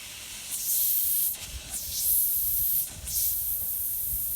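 Air hisses from a punctured truck tire in bursts about a second long, starting and stopping several times over a quiet background.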